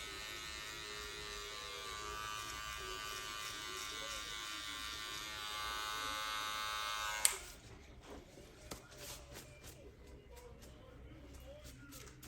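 A Monster fade/taper cordless hair clipper buzzes steadily through a haircut with a 1.5 guard for about seven seconds, then switches off sharply, leaving quiet room tone with a few soft clicks and handling sounds.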